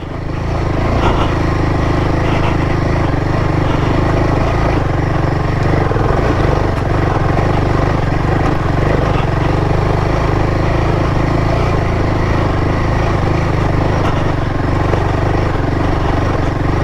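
A Royal Enfield motorcycle labours up a steep dirt road, its engine droning loud and steady throughout with the rear end sliding about, a continuous close rumble with no voices.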